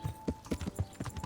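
Horse hooves clip-clop at a steady walking pace in the medieval video game Kingdom Come: Deliverance, a soft rhythmic series of thuds with a faint background hum.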